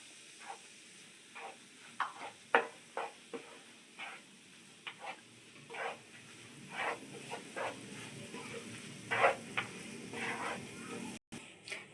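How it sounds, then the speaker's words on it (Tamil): Wheat flour roasting in ghee in a pan for halwa, a low continuous sizzle broken by a series of short, soft scraping strokes as a spoon stirs the mixture. "இந்த நெய்லேயே நல்லா வறுத்து எடுத்துக்கலாம்"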